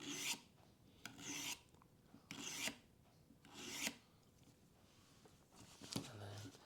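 A knife is drawn across the diamond side of a sharpener in five steady, evenly spaced rasping strokes, each a short gritty scrape separated by quieter pauses, heard up close.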